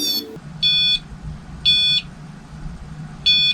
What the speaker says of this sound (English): we don't know what a smoke detector chirp